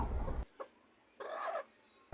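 A few short clucks from a chicken, quiet and close, separated by pauses, with a brief louder burst of noise at the very start.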